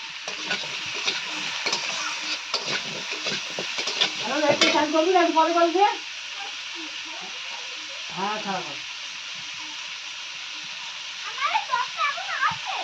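Potatoes fry in a pan with a steady hiss of oil, broken by several bursts of stirring and scraping; a voice is heard briefly.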